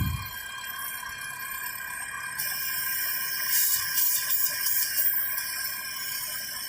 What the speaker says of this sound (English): You can hear the air.